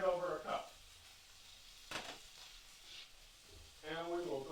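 Coconut milk poured into a sizzling tomato and onion broth gives a soft hiss and sizzle under a cook's talk, with a brief pour-like burst in the middle.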